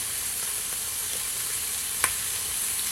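Beef roast set in a hot pan beside a bouquet garni, giving a continuous bright sizzle and crackle of fat, with one sharper pop midway, steady and close.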